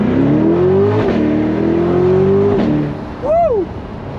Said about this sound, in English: V8 sounds fantastic.